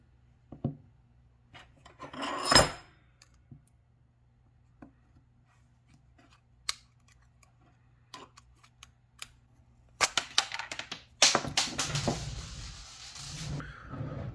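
A clogged Briggs and Stratton pressure washer nozzle is taken apart by hand. Sparse clicks and a brief scrape come first, then a burst of close rattling, rubbing and scraping near the end.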